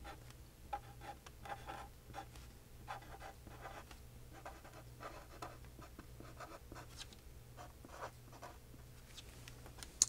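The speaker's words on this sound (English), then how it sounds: "I'm going to start writing the address." A pen writes an address on an invitation card, held against a slider guide. Its light scratching strokes run steadily and close by, with small pauses between words and no one talking.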